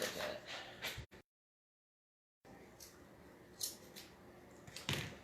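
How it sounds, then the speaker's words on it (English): Scissors snip through paper at an angle during a craft project, with several short, close cuts on either side of a brief silent gap. "And I cut it kind of on an angle, if you can see."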